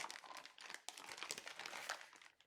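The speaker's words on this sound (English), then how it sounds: "And sorry for the crinkling." Packaging crinkles continuously up close while someone rummages for an item, a steady rustle broken by sharper crackles and no voice over it.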